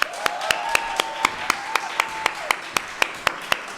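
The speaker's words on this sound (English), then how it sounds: "So let's applaud for her." Applause at a fellowship graduation, heard as a steady rhythmic series of sharp claps at an even pace, about four per second, with a faint continuous tone running underneath.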